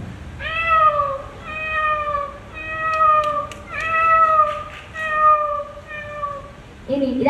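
A mimicry performer on stage imitates a mother cat, voicing a series of long, clear, fairly loud meows in an even rhythm.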